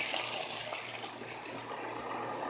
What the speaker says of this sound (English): Then you're going to pour your juice.